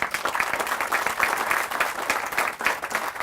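A crowd claps at a groundbreaking ceremony, with sustained, dense applause of many hands at a steady level from start to finish and individual claps flickering through the wash.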